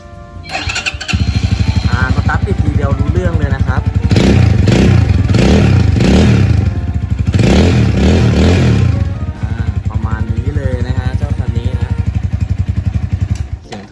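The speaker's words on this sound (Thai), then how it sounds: "เรามาฟังเสียงท่อเดิมกันหน่อยดีกว่านะฮะ" A 2020 Stallion Makina 250 SP Plus motorcycle engine cranks and catches, then idles with a steady stock-exhaust burble and a couple of louder revs in the middle, close and loud.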